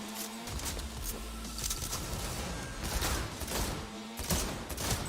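Rapid gunfire crackles in the video game Cyberpunk 2077, dense bursts of shots and mechanical clatter rising and falling over a loud, busy combat background.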